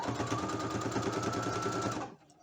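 A sewing machine stitches steadily through bulky folded fabric at a stress point on homemade shorts, a close, fast, even mechanical chatter that runs for about two seconds and then stops.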